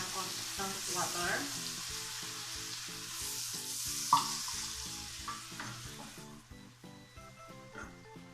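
Water poured into gravy already bubbling in a pan sets off a steady crackling sizzle that slowly softens, with a sharp splash midway and faint background music underneath.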